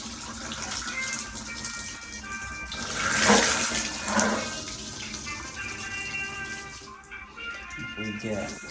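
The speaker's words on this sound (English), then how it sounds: "We're gonna start at this tub filler right here" Water runs steadily from a bathtub filler tap during a flow test, a continuous broadband rush that swells in the middle, with someone talking over it.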